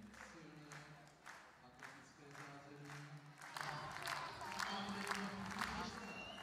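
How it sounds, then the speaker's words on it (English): An indoor athletics meeting crowd claps in a rising rhythmic applause, faint and in the background beneath an announcer's ongoing commentary, growing louder toward the end. "starting to applaud in the background, as you can probably hear"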